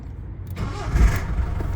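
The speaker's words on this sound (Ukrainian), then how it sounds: "Запустимо двигун." A 1993 Ford Transit engine cranks briefly and catches, rising into a low rumbling idle close by.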